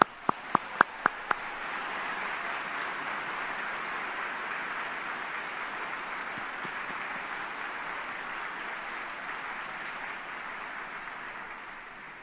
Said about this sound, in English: Let's have a round of applause for the best team in the business.